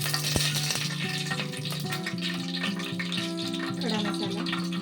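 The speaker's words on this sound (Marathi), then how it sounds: "दोन तमालपत्र टाकते फोडणीला आधी." Bay leaves sizzling as they drop into hot oil in a heated pot for tempering, a close, continuous crackle and hiss with a sharp initial spatter.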